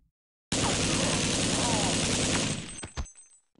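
Gunfire hitting the player in the They Hunger video game, a sudden dense burst of rapid loud shots lasting about two seconds, then fading with a few scattered thuds.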